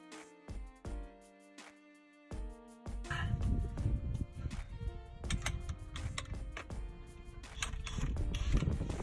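An impact wrench with a 1 1/4 inch socket works the nut on an Adams 1350 driveshaft being fitted to a Jeep JL Rubicon, a few clanks and clicks followed by a dense, close, rattling hammering burst that runs for several seconds.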